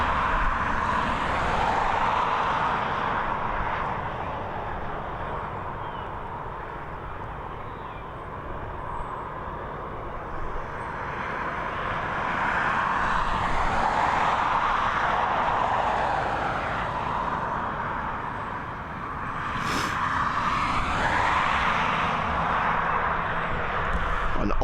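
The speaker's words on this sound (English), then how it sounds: "Our next departure looks set to be going to Prague, FR 7326, a Boeing 737 operated by Ryanair." A Ryanair Boeing 737 departs Dublin Airport, its engine roar rising and falling in waves over the whole stretch, heard from a distance without any talking.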